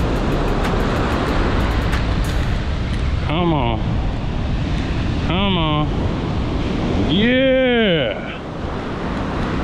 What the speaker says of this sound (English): Oh, these waves.